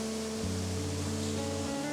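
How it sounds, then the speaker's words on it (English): Glenkeen Waterfall in the Slieve Bloom Mountains, a steady broadband rush of falling water heard from right at the base of the cascade, constant and enveloping, with a low tonal hum running beneath it. "I'm right at the base of the fall"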